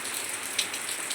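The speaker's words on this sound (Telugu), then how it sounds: "ఫుల్ వాన పడుతుంది" Heavy rain falling in the early morning before dawn, a steady dense hiss without pause, with a few slightly louder splashes standing out.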